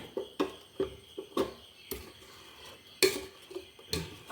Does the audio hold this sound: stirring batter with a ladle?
yes